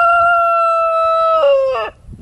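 A backyard flock rooster crows loud and close in one long sustained call that breaks off at the end, with soft clucking and scratching from chickens underneath.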